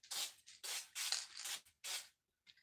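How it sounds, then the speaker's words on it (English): A can of specialised spray paint hisses in five short bursts of varying length with brief gaps, followed by a faint final puff, close and crisp. "This is a specialised spray."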